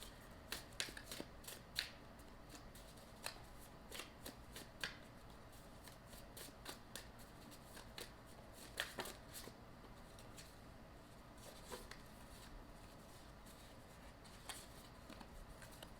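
Spiritual deck of cards being shuffled, a faint, close series of quick riffling snaps and soft flicks repeating irregularly, alone without talk.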